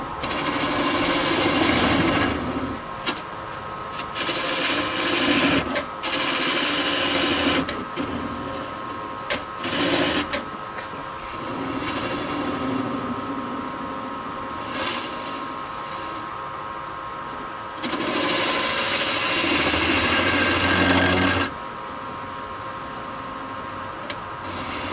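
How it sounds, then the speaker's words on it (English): A half inch bowl gouge hollows a maple bowl on a wood lathe, a steady rough scraping hiss over the motor's hum that comes and goes in long cuts, close and loud. "I'm going to start hollowing the bowl with a 1/2 inch bowl gouge."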